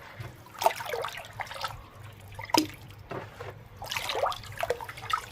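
Wet Multani mitti clay mud being stirred and mixed by hand, giving soft squelchy, dripping wet sounds in irregular bursts, close and moderately quiet, with no talking.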